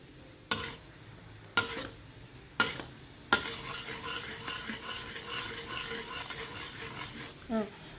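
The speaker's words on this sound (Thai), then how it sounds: "เดี๋ยวมลู้จะเคี่ยวแล้วก็รอให้เขางวดตัวนี้นิดนึงนะ" Shrimp chili paste simmering in a pan, opening with four sharp scrapes of a utensil spaced about a second apart, followed by a steady bubbling sizzle and a brief stir near the end.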